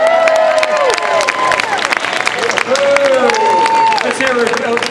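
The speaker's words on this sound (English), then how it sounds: "give it up for the one, the only Eddie Goldstein" A live science demonstration crowd bursts into loud applause and cheering, with many hands clapping and voices whooping and shouting over one another throughout.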